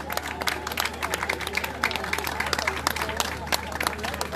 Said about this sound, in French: C'est comme ça qu'on applaudit très fort ici.